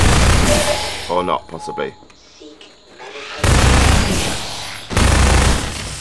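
Machine gun fire in the video game Half-Life 2: Episode Two comes as two loud, dense sustained bursts in the second half, after a short stretch of someone talking over quieter game sounds.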